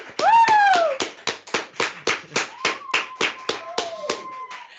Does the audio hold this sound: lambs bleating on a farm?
no